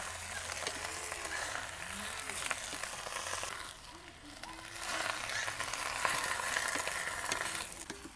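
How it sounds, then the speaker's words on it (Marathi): Hadga flowers sautéing with green chillies in a pan, a continuous moderate sizzle with intermittent spatula scraping and stirring, a faint voice in the background. "हे फुलं चांगले मिरचीमध्ये परतून घ्यायचे, शिजून फार कमी होऊन जातील।"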